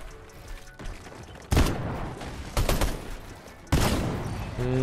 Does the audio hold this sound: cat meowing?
no